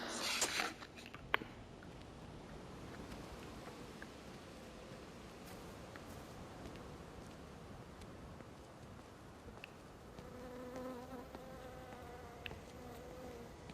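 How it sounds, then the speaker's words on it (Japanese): Insects buzz and chirp in a steady outdoor ambience in the game Everybody's Gone to the Rapture, a continuous low hum of faint drones with a brief louder rustle at the start and thin repeated chirps later on. "虫の音が聞こえる"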